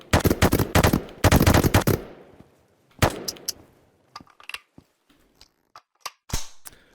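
An SMG set to burst fire in the VR game Into the Radius lets off two rapid, loud bursts back to back, then a lone shot, followed by scattered light clicks and handling clatter.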